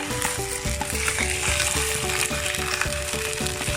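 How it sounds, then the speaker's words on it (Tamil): Wheat bread halwa stirred continuously in a pan as it roasts, rhythmic scraping and thick bubbling sizzle, close and steady with no talking. "கைவிடாமல் கிண்டிகிட்டே இருங்க. அடி பிடிக்காமல் பார்த்துக்கோங்க."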